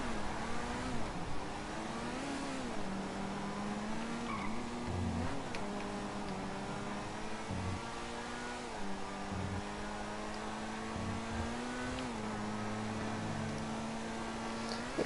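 The Overflod Tyrant supercar in Grand Theft Auto 5 revs and drones continuously, its engine pitch rising and dipping through gear changes over a steady loud roar, with no talking.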